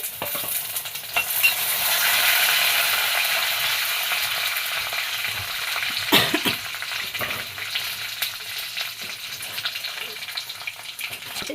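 Chillies frying in two tablespoons of oil in a pan for a coconut chutney, a steady close sizzle with stirring scrapes and a brief louder clatter midway.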